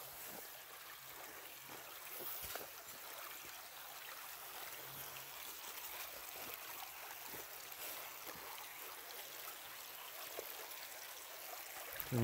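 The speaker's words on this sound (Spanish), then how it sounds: "Ven aquí cómo corre el agua." Water running and trickling in a shallow stream after a snowfall outdoors, a steady soft rushing wash with faint scattered splashes, heard alone at low level.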